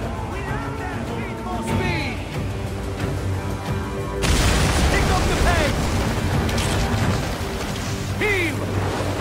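Ship cannon fire during a naval battle in Assassin's Creed Origins, a loud dense burst of booming and crashing that swells midway, amid game sound effects and shouted voices.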